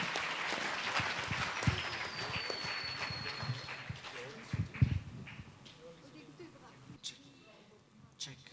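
Audience applause at a Shillong Talks 2019 event welcoming a band, a steady wash of clapping through most of the stretch with some shouting, fading toward the end.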